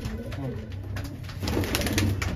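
Small Madrasi pigeons coo in a loft with soft, low, rolling calls close by. Someone talks over them.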